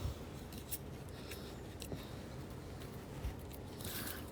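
Scissors snip 0.4 mm wire for a beaded turquoise ring. Several short, quiet cutting clicks sit over a soft, steady background.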